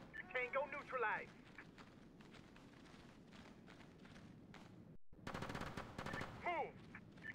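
Automatic gunfire from SOCOM 3 on PSP: repeated rapid bursts crackle loudly through a busy combat soundscape, with short radio-style voice lines over the shots and a brief dropout near the middle.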